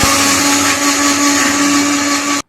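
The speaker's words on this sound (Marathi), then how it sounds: "त्यानंतर आपण करीसाठी वाटण करून घेऊया." A mixer grinder whirs loudly and steadily while grinding a ginger-garlic and coconut spice paste for a surmai fish curry, running without a break until it cuts off abruptly at the end.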